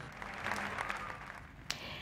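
Left-wing party activists applauding at a summer party gathering, a dense continuous wash of clapping heard at moderate distance, with a brief sharper burst near the end.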